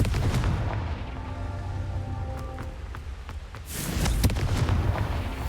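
A Confringo spell in Hogwarts Legacy goes off with booming, blasting impacts and low rumbling explosions, loud and close, and a second burst hits near the end.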